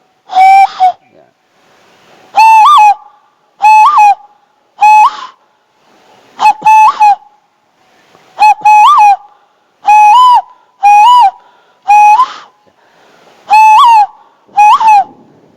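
A hand whistle made by blowing through cupped hands and fingers imitates a bird call, giving about a dozen loud, clear, hooting whistle notes in an uneven rhythm with short gaps between them.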